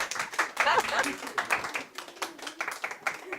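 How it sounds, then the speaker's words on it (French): A small group in a home pastry workshop claps in an uneven rhythm with distinct hand slaps, while voices talk and call out over the clapping. "Allez, on applaudit là!"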